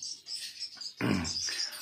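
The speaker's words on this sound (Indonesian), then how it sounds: "Nah, kita lihat ya burungnya." Swiftlets chirping inside a 4x4 swiftlet house with coconut-trunk fin boards, a faint high twittering throughout with a louder burst of chirps near the end.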